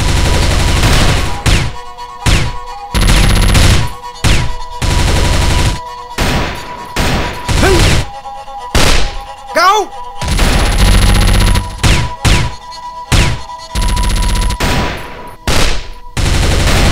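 Loud bursts of gunfire ring out in a dramatic Boro music video scene, with rapid volleys and single shots repeating across the span, broken by short pauses and a shouted voice.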